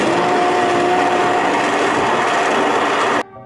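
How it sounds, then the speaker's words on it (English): A kitchen blender purees boiled cannellini beans for vegan gravy, giving a loud, steady whirring roar up close that cuts off abruptly near the end. "So I've got just a blender, but obviously you can put it in like a smoothie maker or whatever kind of blender machine you have."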